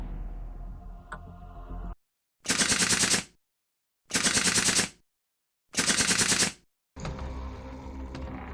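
Three loud, evenly spaced bursts of rapid automatic gunfire from a zombie shooting video game, each about a second long and separated by silence, set between stretches of busier in-game sound.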